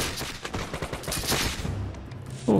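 A musket volley in the Bannerlord Guns & Powder mod: dense, overlapping gunshot cracks ripple through a battle din for about two seconds, then a louder burst lands right at the end.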